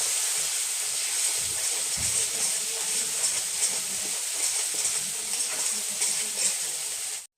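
Steady, loud sizzling hiss of ground coriander, cumin and turmeric frying in oil for a Bengali jackfruit curry, continuous and close, ending abruptly.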